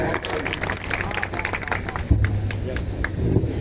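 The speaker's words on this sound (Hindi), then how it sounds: "भाई मनीष पेशवार जी के लिए जोरदार तालियां बजाएं" Audience clapping for a poet at a Hindi poetry gathering (kavi sammelan), a dense, loud burst of applause with crowd murmur and voices mixed in, continuing steadily with a few low thumps.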